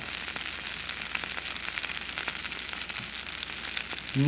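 Olive oil sizzles in a hot pan with a continuous, dense crackling hiss that holds steady and close throughout, with no voices.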